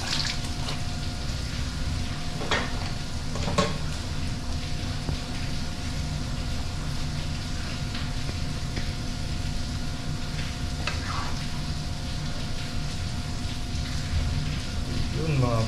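Alugbati (Malabar spinach) cooking in a pan, with a steady soft sizzle and occasional stirring clatter running continuously, close by, under a faint constant hum.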